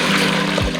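Water poured into a pan on medium-high heat over frying chicken, a brief close splashing trickle lasting under a second.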